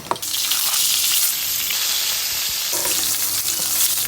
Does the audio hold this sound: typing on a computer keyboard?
no